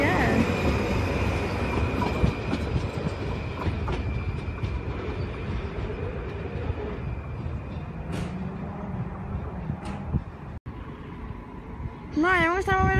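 Trains at Eindhoven Centraal station rumble and roll steadily, with rail clatter, a brief cut and a rising squeal near the end, while someone talks over the sound.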